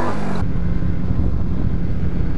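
A motorcycle pulls away in first gear, its engine a loud, steady low rumble mixed with heavy wind buffeting at the helmet-mounted microphone, with no talk.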